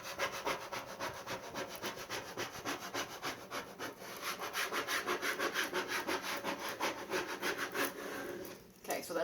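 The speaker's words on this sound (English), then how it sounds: "that's how I went back with a much firmer scrape" A wall decal is scraped firmly under transfer tape in a rapid, regular series of close rasping strokes, ending with a brief rougher tearing sound as the tape begins to peel away.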